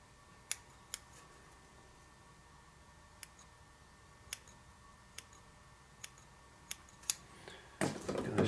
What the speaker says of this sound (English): I'm going to trim this piece off a little bit.